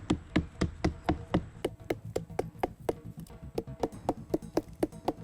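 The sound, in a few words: pounding palm tree stalk to release tuba sap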